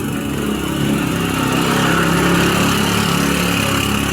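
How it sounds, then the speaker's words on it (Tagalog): A motor tricycle engine buzzes past close by on a dusty rural road, its steady nasal drone swelling slightly and holding loud for a few seconds. "May tricycle pa naman."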